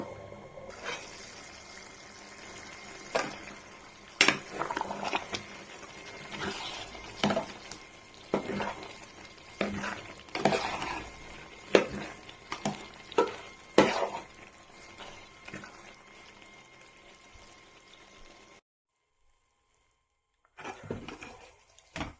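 Chicken biryani is turned in a pot with a spoon, giving irregular clanks and wet scraping stirs, moderately close, before a brief pause and a few more stirs.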